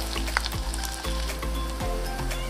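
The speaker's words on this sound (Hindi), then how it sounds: "प्याज को तेल में नचाते हैं" Chopped onions sizzling in very hot oil for an egg bhurji, a loud, continuous close-up fry with crackling bursts and a few stirring scrapes, no talking.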